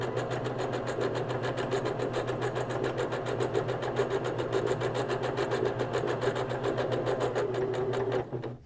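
A sewing machine stitches through thick layers of a cloth napkin with a steady, rapid mechanical whir and a fast needle patter that runs on evenly, close and alone, before stopping abruptly.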